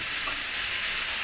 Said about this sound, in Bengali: এবার কড়াইয়ে তেল গরম করছি, বেশ অনেকটাই তেল দিচ্ছি কারণ অনেকটা মাছ আছে